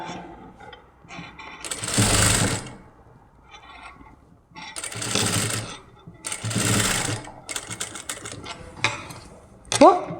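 A sewing machine stitching lace onto a child's crop top, running in three loud bursts of rapid needle clatter separated by pauses, then a shorter, choppier run near the end; close by, with a voice talking between runs.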